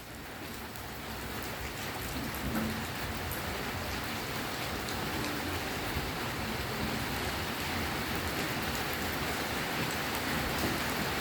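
Steady rain falls throughout, a dense continuous hiss of drops on surfaces with no voices.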